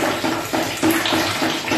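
Water pouring down from the ceiling of a fourth-floor apartment after a leak, a loud, close, continuous splashing and gushing that surges in uneven pulses.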